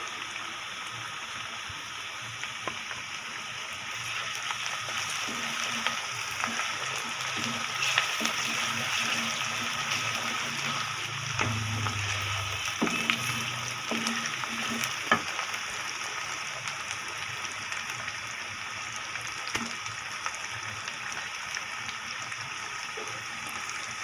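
Green chili paste sizzles and fries in a pan for potato karahi, a steady close crackling hiss with occasional stirring scrapes and a brief heavier burst midway.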